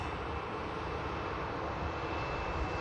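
Qatar Airways airliner taxiing at Manchester Airport, a steady broadband jet-engine rumble and whine heard from a distance, constant in level and without voices.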